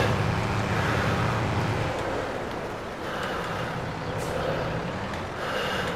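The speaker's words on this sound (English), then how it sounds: "Like most of the class tractors, it has a very nice engine sound." Class tractor engine idling and running in Farming Simulator 22, a steady broadband rumble that changes slightly in tone throughout, loud and continuous, no talking.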